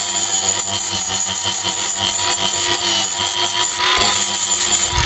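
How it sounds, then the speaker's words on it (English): A 120 grit flap wheel deburring metal while an electric panel and meter socket are being installed: a loud, continuous abrasive whir with gritty scraping that holds steady throughout, no voices. "So we got a 120 grit flapper wheel."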